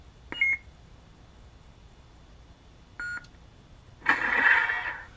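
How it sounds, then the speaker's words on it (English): Two short electronic beeps a few seconds apart from a held lightsaber button, followed by a louder burst of buzzing, crackling hum as the blade ignites with a Plecter sound font. "we're going to push and hold that button through 2 beeps"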